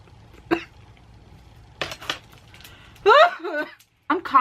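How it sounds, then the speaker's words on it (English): A woman coughs in short, irregular bursts in a small room while spraying a one-day blonde colour spray onto type 4 hair, with her voice heard between the coughs. "I'm coughing like I'm like a smoker or something."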